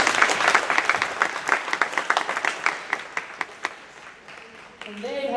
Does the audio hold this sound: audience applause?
yes